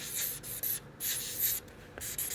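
A Pilot Chisel marker with a chisel tip scratches and squeaks across paper in short, quick strokes, with brief pauses between, close and fairly quiet.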